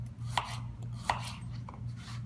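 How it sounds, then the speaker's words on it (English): A knife slicing a carrot on a cutting board: two distinct, crisp chops a little under a second apart, then a softer third cut, close and fairly quiet over a low steady hum. "you can do slices, or you can go at an angle"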